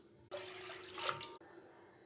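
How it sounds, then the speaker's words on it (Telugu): Water poured from a glass into a container for soaking half a kilo of gooseberries with turmeric and green chillies, a close, steady splashing pour lasting about a second before stopping abruptly. "3 గ్లాసులు నీళ్ళు పోయవలను."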